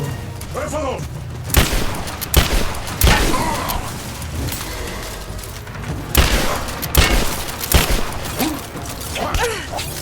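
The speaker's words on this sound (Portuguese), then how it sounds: "Tá atirando em mim, cara." Gunfire and heavy impacts in the action game Rise of the Tomb Raider, a scattered series of sharp shots and booms over about ten seconds, mixed with game sound and occasional voices.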